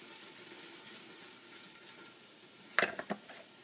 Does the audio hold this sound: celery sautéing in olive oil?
yes